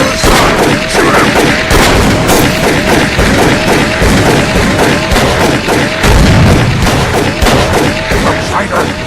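Rapid gunfire in the horror video game Call of Cthulhu: Dark Corners of the Earth, dense repeated loud shots and booms throughout, mixed with shouting voices.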